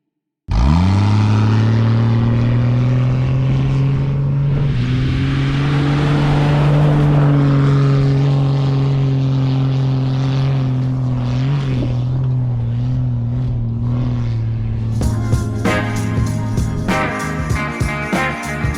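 A Jeep XJ Cherokee's 4.0-liter AMC straight six runs loud and close, holding a deep steady drone that swells as it revs and then settles, with music coming in near the end.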